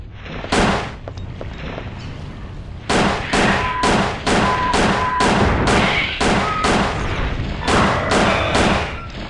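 Gunshots in Dino Crisis 2, loud close blasts in a steady rhythm, one early shot then a run of about a dozen evenly spaced reports with brief gaps, over a constant background rumble.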